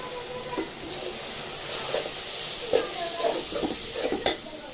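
Shrimp and vegetables fry in a pan for a bottle gourd and prawn dish, a steady close sizzle broken by soft scraping stirs and light clinks of a utensil against the pan, with no talking.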